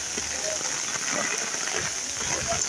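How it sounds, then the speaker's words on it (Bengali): Rain comes down hard in a continuous close hiss with scattered splashing drops, holding a steady level throughout, with faint speech-like murmurs buried in the downpour. "ভরা বৃষ্টি হইতেছে বন্ধুরা"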